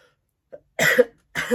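Two sharp coughs close to the mic, preceded by a faint short sound, with a brief pause between them.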